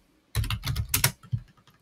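Rapid typing on a computer keyboard, a close burst of crisp key clicks in quick irregular rhythm after a short silence, alone without speech.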